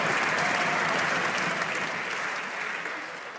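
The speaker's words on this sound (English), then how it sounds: "I think members would be encouraged to keep their applause reasonably short" Members of Canada's House of Commons applaud during Question Period: a steady burst of clapping from a large chamber that gradually tapers off.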